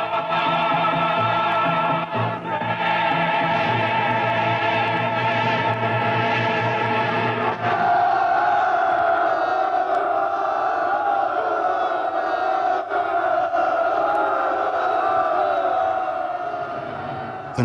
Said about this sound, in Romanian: tribunele revărsau valuri de urale